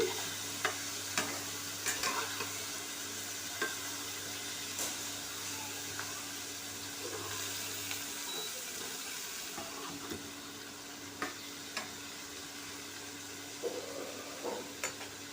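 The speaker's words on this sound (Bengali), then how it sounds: "ভাজাটা একটু উল্টে পাল্টে দিচ্ছি" Fried food sizzling in a pan while being stirred and turned, a steady soft frying hiss broken by light scrape and clink accents from the stirring, with no voices.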